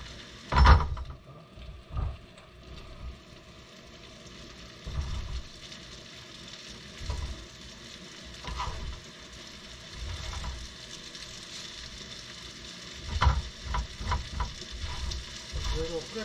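Food frying in an oiled frying pan, stirred and scraped with a wooden spatula: a steady sizzle runs throughout, broken by repeated soft scraping strokes and clatters, close and moderately loud, with no talk.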